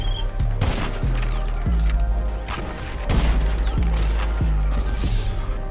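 Gunfire during a GTA Online shootout, loud repeated shots and heavy impacts in uneven bursts over a constant background of game noise.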